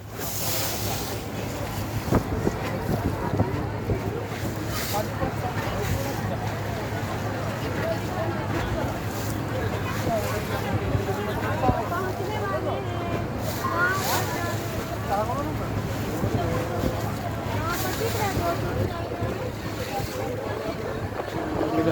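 On a boat on the Ganges river, steady wind buffets the microphone for the whole stretch, mixed with engine rumble and water noise, while people talk throughout.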